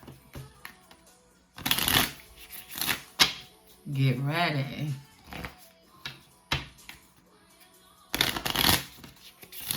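Oracle cards being shuffled in several quick riffling bursts, close up, with a brief spoken phrase in between.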